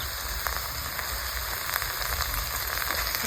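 Ridge gourd kharda with peanuts stir-frying in a pan, giving a steady, close crackling sizzle with faint scattered pops and no voices.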